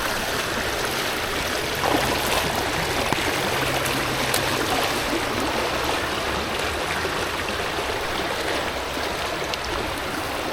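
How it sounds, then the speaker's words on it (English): Rushing river rapids on the Fox River swollen by flood waters, a steady broad roar of fast-moving water close by that continues unbroken throughout. "so I can get a different angle on these rapids though"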